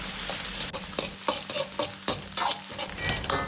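Pixian chili bean paste stir-fried in hot oil for dry-braised carp, a steady sizzle broken by repeated scrapes and clinks of a spatula against the wok, close and fairly loud with no talking.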